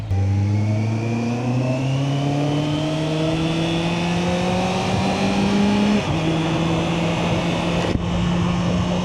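A sport motorcycle carrying a passenger accelerates hard under throttle: a loud, close engine note climbs steadily in pitch through the gears, with brief dips at each shift, heard alone without talk.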